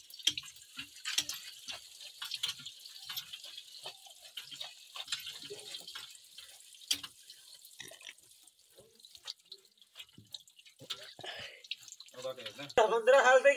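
A water tap runs into a sink at half flow, with a faint, uneven splashing and dripping that grows louder and fuller toward the end.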